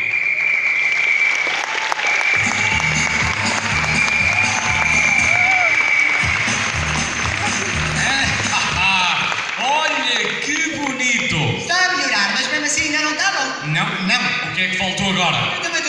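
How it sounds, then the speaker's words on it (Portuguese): Loud circus audience applause fills the ring, a dense continuous clatter of clapping with rhythmic band music underneath and shouts rising toward the end. "o público aplaude com muita força"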